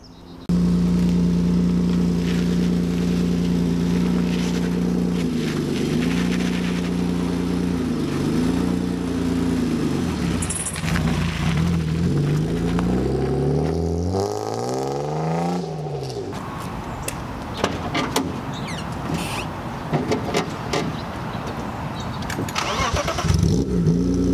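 A BMW E36 325i engine with new exhaust headers idles with a deep, steady rumble, then revs up in a rising sweep before settling into rougher running with clattering noises.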